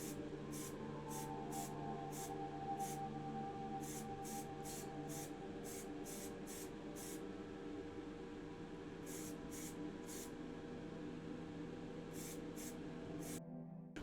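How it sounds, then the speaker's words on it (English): Aerosol spray can applying black primer to the interior of a diecast Siku Mercedes model, heard as repeated short hissing bursts in quick succession over a steady background hum, with pauses between groups of sprays. "The interior of the Siku Mercedes gets a black primer from the same brand."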